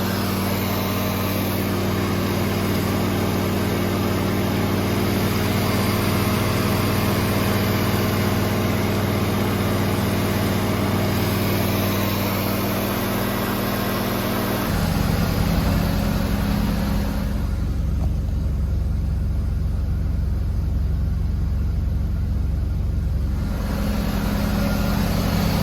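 Mazda RX-7 FC rotary engine idling steadily after startup following flooding, a continuous close, loud droning hum whose tone shifts lower partway through, with no talking.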